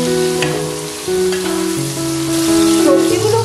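Mixed vegetables dusted with turmeric fry steadily in a pan over a medium flame, a continuous loud sizzle with tonal hums layered over it.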